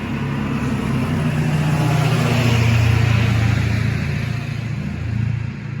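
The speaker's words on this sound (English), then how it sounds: "It's the loudest truck I've ever heard." A loud, deep truck engine roars close by, swelling toward the middle and easing off as it passes.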